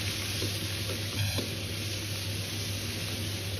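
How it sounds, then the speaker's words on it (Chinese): Sliced lean pork sizzles while being stir-fried in a wok, a steady hiss with a brief scrape of stirring partway through. "接着下入切好的瘦肉翻炒"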